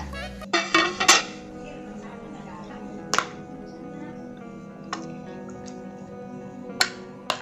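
Chicken pieces moved into another dish in a home kitchen, with a quick cluster of clinks and clatter early on, then a few scattered sharp knocks over a low steady hum.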